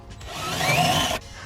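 A small 10.8 volt DeWalt cordless drill bores into Ford Focus RS car body metal during a brace install, a steady whining grind lasting about a second before cutting off abruptly, loud and close.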